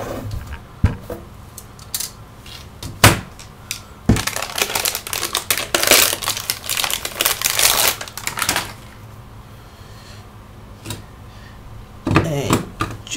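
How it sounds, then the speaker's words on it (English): A drive bay is pulled from a QNAP TS-253 Pro NAS, producing sharp plastic clicks, knocks and rattling handling noises in bursts, close up and unaccompanied by speech. "just remove the actual drive bay."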